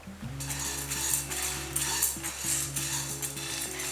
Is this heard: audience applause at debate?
no